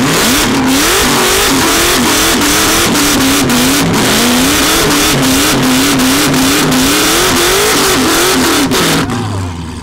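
A Mustang drag racing car does a burnout, its engine roaring loud and steady with rising and falling revs throughout before easing off at the end.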